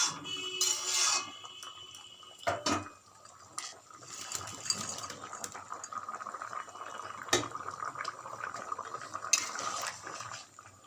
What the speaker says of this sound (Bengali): এবার এর মধ্যে ভেজে রাখা বড়াগুলোকে দিয়ে দেব।